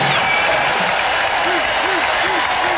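A football stadium crowd before a 1991 Monday Night Football game between the Chiefs and Bills roars and applauds in a loud, continuous wash of cheering, with a voice speaking over it.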